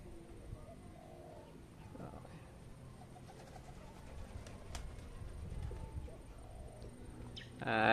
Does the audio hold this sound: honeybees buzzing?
no